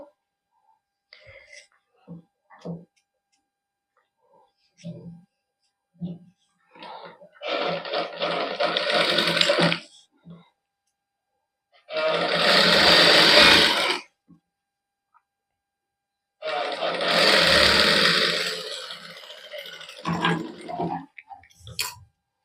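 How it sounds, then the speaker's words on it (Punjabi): A sewing machine runs basting stitches on a garment sleeve in a boutique, three separate loud bursts of a few seconds each, with quiet clicks and short stretches of soft speech between them. "ਪਹਿਲਾਂ ਆਪਾਂ ਕੱਚੀ ਸਲਾਈ ਲਾ ਲੈਨੇ ਬਾਹ ਤੇ"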